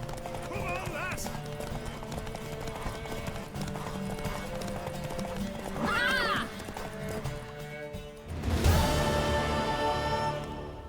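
A horse gallops hard in a race in The Witcher 3, its clip-clop hoofbeats running continuously as someone shouts encouragement over them, with a whinny near the end and music underneath.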